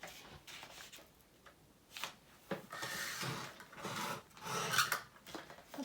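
Paper scraps are trimmed for junk journal tags, giving a series of dry rasping strokes that grow louder and denser toward the end, close and alone.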